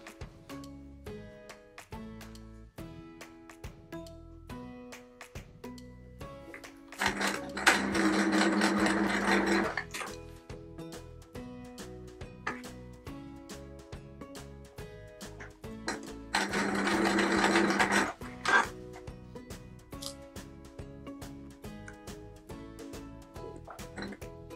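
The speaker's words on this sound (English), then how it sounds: "I'm going to sew each of the four pairs together first" Sewing machine stitching pairs of corner triangles for a Peter Rabbit patchwork quilt block, two separate bursts of steady motor whirring each lasting a few seconds, heard over quiet background music.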